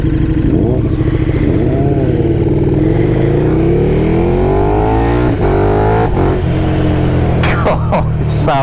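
KTM 1290 Super Duke R motorcycle accelerating hard from the riding position, a loud, rough engine roar climbing in pitch through the gears, with wind rush and a brief gear-change dip.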